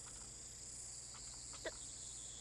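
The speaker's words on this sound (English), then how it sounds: "The only sound is the chirping of cicadas." Cicadas chirp in a steady, faint high-pitched drone, a thin continuous insect hum with a few brief louder chirps over quiet background.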